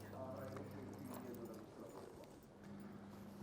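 Hooves of a horse clip-clop on ground during herd work training in an arena, a faint steady rhythm under a constant low hum and background noise, with quiet voices.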